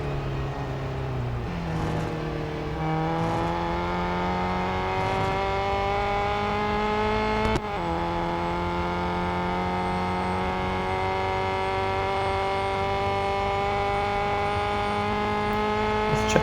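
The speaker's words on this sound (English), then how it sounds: "Let's check out some different engine sound from some different views here." A Ferrari 500 TRC race car engine in the video game Real Racing 3 revs steadily at high pitch, with gear changes shifting the whine up and down, loud and continuous throughout.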